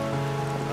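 Steady rain falling in a drama scene, an even hiss of rain held at constant level beneath a sustained tonal background.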